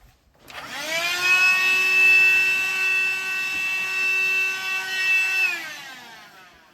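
A Hoover vacuum cleaner starts up with a rising whine, runs loud and steady for about five seconds while cleaning up a mess on a model railway layout, then powers down.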